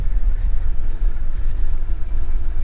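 An Engine-Lab NGN E450 city commuter e-bike runs on throttle alone, with a steady low rumble of motor and road noise at roughly 18 mph. The sound is continuous and fairly loud, and no one speaks over it.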